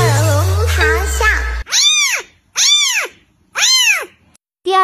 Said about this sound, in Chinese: 第一个咆哮小猫咪